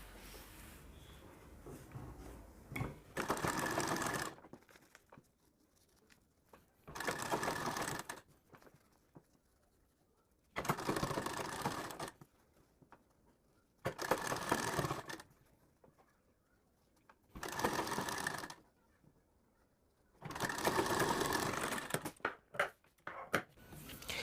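A sewing machine stitches along the edge of a two-colour sleeve in bursts of rapid, steady whirring, about six runs of a few seconds each with quiet pauses for handling the fabric between them, close and clear.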